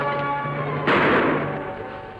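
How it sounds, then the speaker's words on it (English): Distant gunshots echo from beyond a ridge in open Western country, a dull burst of thuds and a rolling report that fades away with no voices over it. "Sound like shots come from over ridge."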